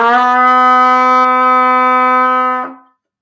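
A single sustained trumpet note, D, held steady for about two and a half seconds, bright and strong, then cut off cleanly.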